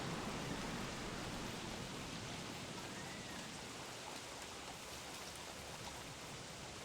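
Steady, dense rain pours continuously with no pauses in the video game Don't Starve Shipwrecked, a soft even hiss of drops on surfaces throughout.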